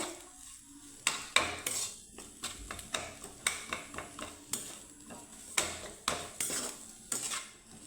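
A spoon clinks and scrapes against a pan while mixing Kashmiri chilli powder into a potato filling, making a series of sharp, irregular metallic knocks over a faint sizzle.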